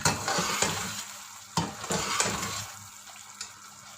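Mutton frying in oil in a karahi, with a steady sizzle broken by repeated scraping stirs of the ladle against the pan, close and fairly loud, no voices.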